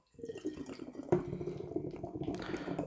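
Nitro-infused English dark mild beer is hard-poured from a can into an oversized wine glass, a close, steady gurgling splash that starts abruptly and keeps going.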